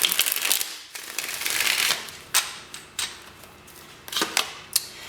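A deck of tarot cards is shuffled close by in several quick, crisp riffling bursts separated by short pauses, with no voices.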